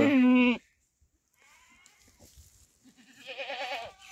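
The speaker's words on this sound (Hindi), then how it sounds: "हमारे मांझी ने बकरी पकड़ ली हुई है दूध निकालना है इसका चाय के लिए" A goat, held in a Himachal village so it can be milked, gives one loud, close bleat, then quieter scuffling and low voices, and ends with a second, longer wavering bleat.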